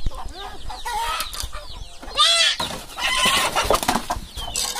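Chickens cluck and squawk inside a henhouse, a busy overlapping jumble of close calls with some flapping and scuffling, loud throughout.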